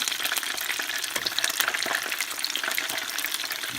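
Chicken wings fry in a pan with a steady, bright, crackling sizzle that holds evenly at close range throughout, with no voice over it.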